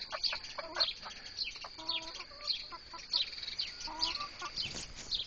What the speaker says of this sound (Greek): Πού είναι η κότα?